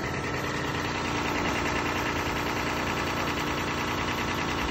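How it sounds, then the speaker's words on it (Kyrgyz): A car engine running with no oil in it drones steadily and loudly for the whole stretch, with a dense, rough mechanical texture and constant vibration and no pauses. "Азыркы учурда ушул мотор майы жок, иштеп аткан кези."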